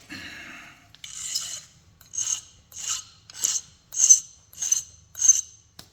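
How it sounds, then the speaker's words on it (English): Repeated short rasping strokes of a small screwdriver-like tool notching a flaked chrome obsidian Elko point, about seven evenly spaced scrapes, close and clear with no talk. "So now we notch it."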